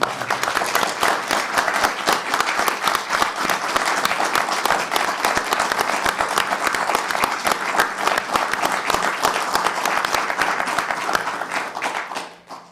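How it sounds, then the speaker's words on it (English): A lecture audience gives a dense, continuous round of applause for the speaker of a public human rights lecture, steady and fairly loud, tapering off in the final second. "shall we applaud the speaker?"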